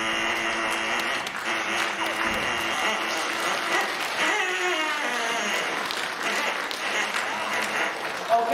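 Audience applauding a clown's juggling act, dense continuous clapping for several seconds with a faint voice in the mix.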